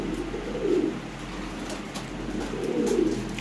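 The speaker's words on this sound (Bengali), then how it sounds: "এই যে এখানে এক পেয়ার কবুতর আছে কালো লাহোরি" Black Lahori pigeons at a pigeon sale give low, throaty coos in two bursts over a steady background hum, with no talking.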